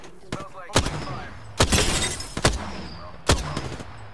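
Gunfire from the Apex Legends battle royale game: several sharp, loud shots spaced apart over a few seconds, each a sudden broad burst, with game ambience between them.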